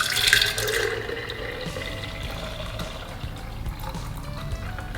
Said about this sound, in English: I'll strain the Nama juice first